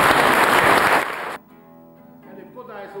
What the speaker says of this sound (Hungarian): Tapsoljuk meg Dávid szavait!